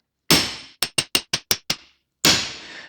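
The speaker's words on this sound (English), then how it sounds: "Because easier to hammer without your hand there." Sharp metallic hammer strikes on the king pin spindle of a 1962 Volkswagen Beetle, a loud ringing hit followed by six quick evenly spaced taps, then another loud ringing blow, close and clear.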